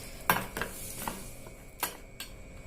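A spoon scrapes and clinks against a pan while green chilli chutney is mixed with its tempering, a few sharp, separate clicks spread over a quiet background.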